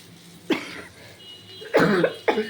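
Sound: cough

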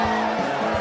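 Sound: concert audience applause and cheering for a guitarist

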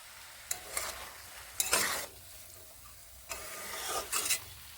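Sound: sautéing spinach with mung dal in a pan

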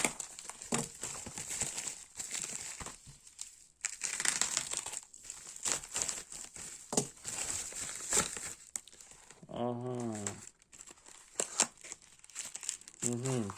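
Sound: unpacking an AliExpress parcel, crinkling packaging

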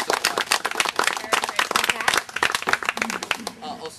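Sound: workshop audience round of applause

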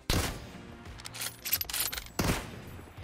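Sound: gunfire in PUBG Mobile video game

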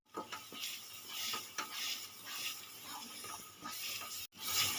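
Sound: stirring prawn masala with mustard-poppy seed paste in pan

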